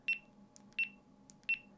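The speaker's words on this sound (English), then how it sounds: "when you press the mode button on the side, you just get a single beep" A GoPro camera's mode button press gives short, bright electronic beeps, three clear pulses evenly spaced about 0.7 seconds apart over a quiet background hum.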